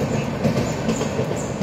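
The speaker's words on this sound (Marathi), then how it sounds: "इंडियन रेल्वे गेली, आत्ता जस्ट गेली, आवाज ऐकला असेल." An Indian Railways train rumbles past overhead while standing under a bridge, a steady, loud, continuous roll of wheels and carriages with a faint rhythmic clatter, heard alone with no voices.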